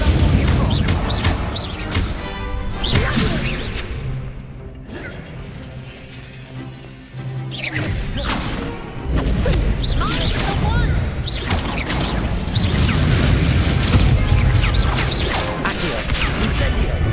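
Incendio fire spells cast during a Hogwarts Legacy battle: repeated loud bursts, whooshes and crashing impacts, with a short quieter lull partway through.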